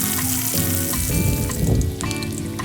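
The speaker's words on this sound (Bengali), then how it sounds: "মাছের মাথাগুলো ভালো করে ভেজে নিতে হবে" Fish heads frying in hot oil give a loud, steady sizzle and crackle close up, continuous throughout with a brief dip near the end.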